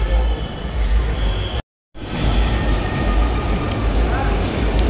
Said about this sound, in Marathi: फायनली आपली ट्रेन आलेली आहे.